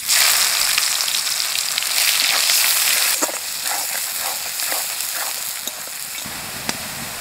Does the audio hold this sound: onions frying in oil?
yes